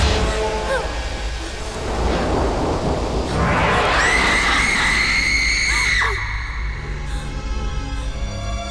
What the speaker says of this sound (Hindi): तुमने वो चीखने की आवाज सुनी?